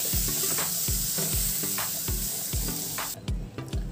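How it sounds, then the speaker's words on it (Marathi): Cooked mutton is added to a hot pan of masala and stirred, with a steady close sizzle and regular scraping strokes of the spoon about every half second. "आता यामध्ये आपण हे जे मटण काढून घेतलं होतं शिजून ते टाकूया व हे व्यवस्थित मिक्स करून घेऊया।"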